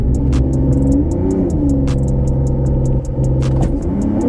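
A front-wheel-drive Toyota RAV4 without a handbrake revs loud and steady through a brake-and-gas drift attempt, the engine drone holding continuously close by with brief rising surges and a few sharp clicks over the top.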